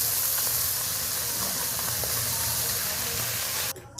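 Small parshe fish fry in hot oil with a loud, steady, close-up hiss and sizzle that stops abruptly near the end, leaving only faint quiet sounds.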